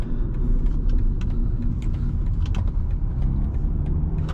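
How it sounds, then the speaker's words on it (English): A 2024 BMW 228i xDrive sedan pulls forward under light throttle, its engine a steady, smooth rumble with road noise, heard from inside the cabin at an even level throughout. "I'm barely even putting my foot on the gas and it's just accelerating very effortlessly."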